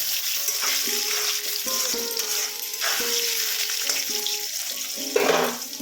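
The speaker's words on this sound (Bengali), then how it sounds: "প্রথমে আলুগুলো একটু ভেজে নিচ্ছি। একটু হালকা হালকা লাল লাল করে আমি ভেজে নেব আলুগুলো।" Potato pieces frying in hot oil in a pan, with a dense, steady sizzle close up and occasional stirring scrapes and clinks over it, and no voices.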